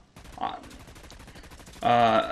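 Rapid automatic gunfire rattles steadily throughout from hipfire in the video game Dust 514, close and continuous, with a brief grunt-like voice early on and a louder metallic burst near the end.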